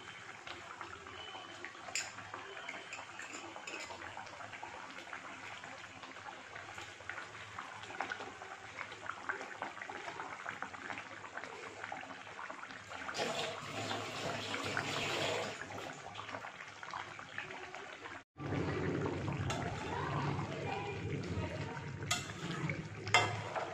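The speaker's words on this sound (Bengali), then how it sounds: "বন্ধুরা দেখো ঝোলটা আমার ফুটে গেছে," Fish curry broth simmers and bubbles in a pot, a faint steady seething hiss throughout that briefly cuts out and then resumes slightly louder.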